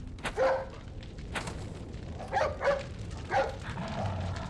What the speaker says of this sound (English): It's that dog.